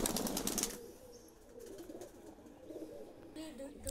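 Pigeons coo softly in a loft, low throaty calls under a person talking nearby, with a brief rustle of wings near the start.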